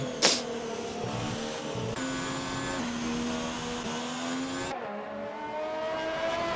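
Race cars in an online F1 league race at the Canada circuit in a racing video game, engines droning steadily at high pitch with shifting tones and gear changes, a brief sharp burst near the start, no talk.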